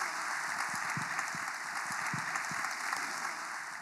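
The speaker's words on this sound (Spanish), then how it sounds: "Un aplauso para Michelle y sus padres" Applause at a cabaret comedy show, heard as a soft, distant wash of clapping from the audience with a few sharper nearer claps, steady and faint throughout, without talk.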